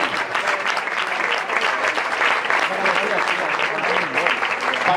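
Sustained applause from a crowd on the grass pitch at Camp Parellada during a football club's season presentation, steady and fairly loud throughout, with voices mixed in beneath the clapping.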